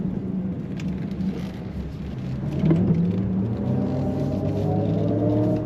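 A 2025 Cadillac Optiq Sport electric SUV drives along with its synthetic futuristic hum, a steady tonal whine that bends and rises in pitch over low road rumble, with no voices.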